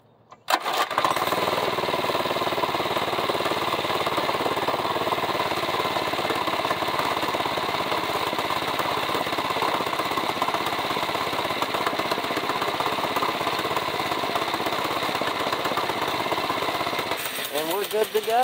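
A small mini bike engine, choked because it is cold after sitting, fires up and runs steadily with a loud, continuous buzzing drone at close range for the whole stretch, then cuts out near the end.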